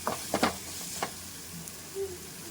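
Soaked lentils stirred into fenugreek greens in a hot pan, with a steady soft sizzle and a few close scraping strokes of the spoon near the start, no voices.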